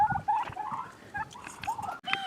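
Several turkeys gobble and chatter close by on a homestead in rapid, overlapping bursts of warbling calls.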